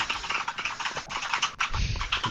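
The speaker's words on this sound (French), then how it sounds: "Ton vieux clavier." Fingers tap quickly on an old computer keyboard during a Fortnite gaming session, producing a steady, close clatter of keystrokes with a brief low thump near the end.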